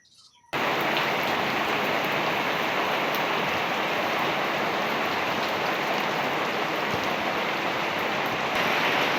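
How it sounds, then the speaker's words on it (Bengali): Heavy rain comes down in a sudden, steady, dense roar after a brief quiet start, loud and close, with no voices. "এখন বেশ জমজমিয়ে বৃষ্টিটা এসেছে"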